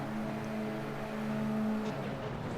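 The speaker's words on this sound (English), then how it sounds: "Drivers getting ready. Revs are building." Race car engines idle and rev steadily together on the starting grid in a sim racing cup finals, a sustained droning hum with a higher tone rising near the end, no talk.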